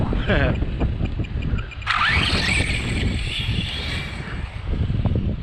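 A Traxxas Slash RC car built as a no-prep street eliminator accelerating on a cold street: a rising high-pitched electric motor whine that sweeps up mid-clip over steady background noise, with someone talking around it.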